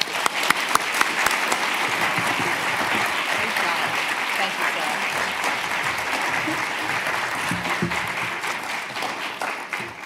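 Sustained audience applause fills a university forum hall on women and democracy, welcoming a senator as keynote speaker; dense steady clapping from many hands runs the full length, loud and even, with a few sharper claps standing out early.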